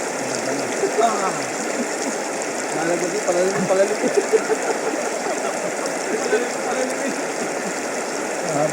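A river stream flows and gurgles steadily nearby, a constant watery rush with occasional splashes, while someone speaks briefly over it.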